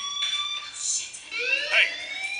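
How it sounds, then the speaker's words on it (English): Electronic fire alarm in the video game Life is Strange, a rising, wavering tone sweeping upward in repeated bursts, fairly loud against a quiet background, with a second tone layered in partway through. "do you hear that fire alarm? That means you should be outside."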